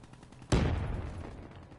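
A single sharp shot from the HPK gun in Black Ops 3, a loud sudden crack followed by a decaying boom and echo tail, with no talking.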